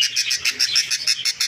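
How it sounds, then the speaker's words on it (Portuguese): A budgerigar chick in its nest gives rapid, insistent chirps, a quick series of sharp, high begging calls repeated in an even rhythm, loud and close with no talking. "Filhotinho ali bem barulhento."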